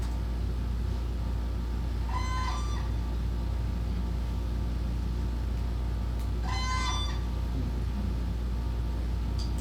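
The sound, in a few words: whooping crane guard call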